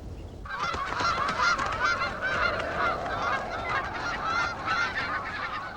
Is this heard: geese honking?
yes